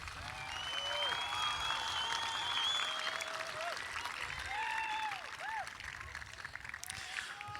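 A college commencement crowd applauds graduates steadily, with scattered cheers and whoops rising over the clapping.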